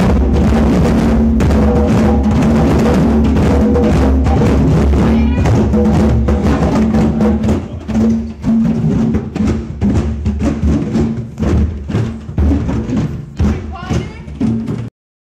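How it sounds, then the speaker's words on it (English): Children in a drumming circle at a school for the blind beat drums together, a dense run of loud thumps and hits with irregular rhythm that thins out toward the end, with voices mixed in. "this evening we started with a drumming circle, as you can hear some of that right now"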